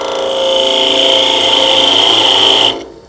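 A wood lathe hums steadily and loud while a tool cuts into a small Christmas tree trunk, then the cutting stops abruptly near the end.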